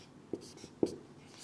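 Handwriting with a pen or pencil on paper: soft scratchy strokes with a couple of light taps, close and quiet with faint background hiss.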